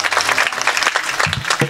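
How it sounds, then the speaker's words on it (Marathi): An audience at a kirtan gathering claps in a brisk, continuous burst of applause, close and fairly loud, with a voice briefly heard near the end. "एकदा अजून एकदा टाळी वाजवा."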